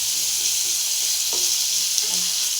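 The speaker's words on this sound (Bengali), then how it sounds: "আলুগুলো দিয়ে দিলাম তেলের মধ্যে।" Potatoes dropped into hot oil fry with a dense, loud, continuous hissing sizzle that stays even throughout, with no voices.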